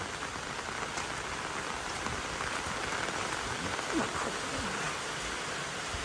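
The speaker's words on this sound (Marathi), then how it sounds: "मस्त पाऊस सुरूच आहे बाबा पाऊस थांबतच" Steady monsoon rain falls continuously behind a Konkan village house near a forest, a dense even hiss of drops on surfaces with no pauses and no talking.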